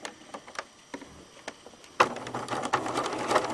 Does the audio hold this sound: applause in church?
no